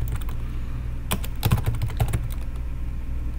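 Close, clicky keystrokes on a computer keyboard come in short uneven clusters, a quick run of taps in the middle, over a faint steady hum with no talking.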